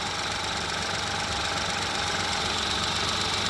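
A three-cylinder engine idles steadily nearby, its uneven knocking thrum and vibration holding constant throughout, with no talking.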